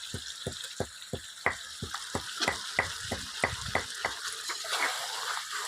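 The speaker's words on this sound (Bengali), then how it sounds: "এবার এই ভাজা মাছগুলো আমি মশলাটার উপরে দিয়ে দেবো" Fried koi fish turned into sizzling masala in a pan, sharp rhythmic clacks of a spatula against the pan over a soft frying hiss, with no talking.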